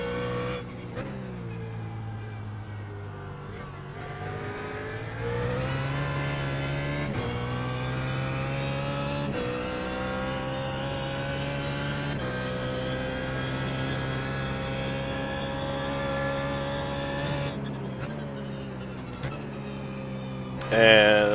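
BMW Z4 GT3 race car engine in the iRacing simulator at Zandvoort, a steady loud engine drone that climbs and drops through gear changes across the lap, close and sustained with a brief louder burst at the end.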